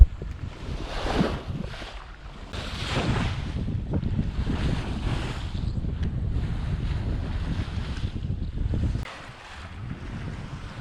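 A sailboat under full mainsail, reefs shaken out, heads south close hauled through waves, with steady rushing water and wash against the hull and gusting wind noise on the microphone; continuous and fairly loud, dropping briefly near the end.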